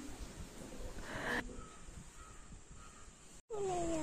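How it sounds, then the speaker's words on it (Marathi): A crow caws a few times, faint and distant, over steady wind and outdoor background noise. "तो पळय कावळो पळय थंय कावळो का कसलो पक्षी तो हो पळय बसलो थंय"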